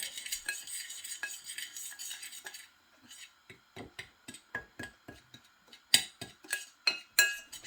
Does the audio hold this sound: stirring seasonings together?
yes